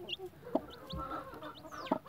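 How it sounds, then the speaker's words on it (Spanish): Hens cluck softly near newly hatched chicks, with a few distinct clucks and thin high peeps scattered across the stretch, fairly close but quiet, with no talking. "Son hijos de la brava con el gallito, el Rocky. El pollito, mira qué bonito"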